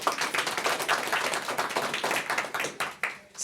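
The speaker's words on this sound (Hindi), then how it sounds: "एक बार ताली हो जाए अंकल के लिए।" An audience claps for a 78-year-old man at a gathering, a near, fairly loud patter of many hands with uneven rhythm that thins out toward the end, with no talk over it.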